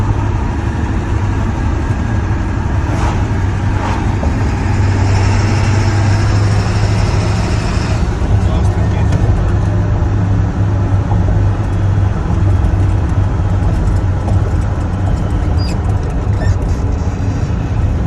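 A 1999 Ford F-350 with the 7.3L Powerstroke diesel drives along on a stock tune, a loud, continuous low engine rumble with road noise that shifts slightly partway through.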